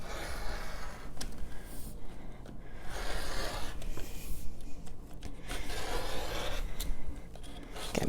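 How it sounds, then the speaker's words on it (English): A rotary cutter rolls through T-shirt fabric along a ruler, giving a soft, continuous rasping rub with faint scraping strokes, heard close and without talk. "then cut with my rotary cutter"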